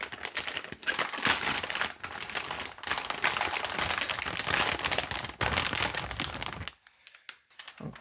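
A plastic wrapper crinkles loudly and continuously up close as an EVGA 3090 FTW3 Ultra graphics card is unwrapped, with dense crackling that breaks off near the end into a few faint rustles.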